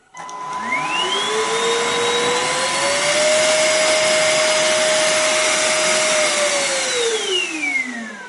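A Kärcher FCV 3 cordless vacuum mop starts up and runs steadily with a high whining motor tone, pitch rising at start and falling as it winds down.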